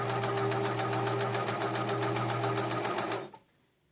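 A New Home SS-2015 sewing machine stitches at a steady, fast rhythm with a close mechanical hum and rapid needle clatter for about three seconds, then winds down and stops.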